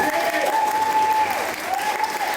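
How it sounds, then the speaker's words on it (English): Wedding guests give the co-best man a steady round of applause, with a crowd of hands clapping continuously throughout and a faint whistle riding over the clapping. "everyone give him a massive round of applause."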